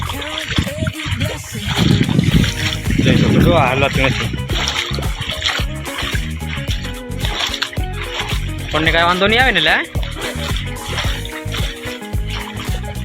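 Rainwater runs and splashes through a flooded cotton field after heavy rain, a steady rushing wash close by, with people talking over it much of the time.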